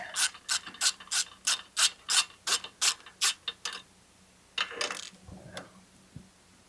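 A ratchet works a bolt on a Honda side-by-side, about a dozen quick close clicking strokes in a steady rhythm, a pause, then a few more clicks and light handling noise.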